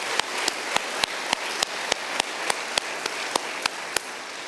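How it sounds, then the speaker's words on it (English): Graduation audience applauding cadets, a thin patter of many hands with sharp, regularly spaced louder claps standing out near the front, steady throughout. "Let's give them all a round of applause."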